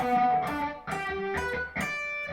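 An electric guitar with distortion plays a sweep-picked arpeggio. Several distinct notes follow one another and blur together into a thick, somewhat muddy buzz, heard alone without talk.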